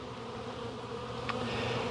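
Honey bees hum around an open hive during a spring inspection, a soft, steady buzzing drone of many insects close by with no voices.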